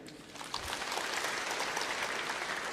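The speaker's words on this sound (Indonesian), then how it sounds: "Tepuk tangan untuk budaya Sunda" An audience at a civil servant appointment ceremony in West Java applauding Sundanese culture, a steady, full, continuous burst of many people clapping that holds at even loudness throughout.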